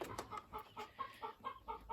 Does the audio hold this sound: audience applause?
no